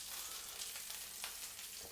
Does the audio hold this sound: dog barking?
no